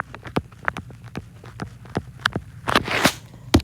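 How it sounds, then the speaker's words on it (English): A stylus taps on a drawing tablet screen while bones are being colored in a doodle, giving about ten sharp, dry clicks at an irregular pace, close and fairly crisp, over a low background hum. "That is my pen hitting the screen."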